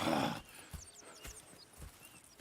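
Horses in the Red Dead Redemption 2 video game, a short whinny up front followed by slow clip-clop of hooves and faint distant birdsong.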